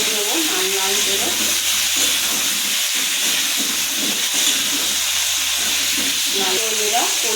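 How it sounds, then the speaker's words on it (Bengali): Potato chunks for aloo dum fry in hot oil with a whole cardamom pod in a pan, giving a steady loud sizzle and hiss with occasional stirring scrapes. "আলুগুলো এবারে আমি ভালো করে ভেজে নেবো, লাল লাল করে"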